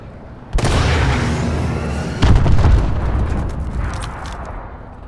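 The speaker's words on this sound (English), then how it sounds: "Friendly missile strikes inbound." Missile strike explosions in the video game Call of Duty Advanced Warfare on the Horizon multiplayer map, two loud booming blasts a couple of seconds apart, each followed by a long rumbling roar.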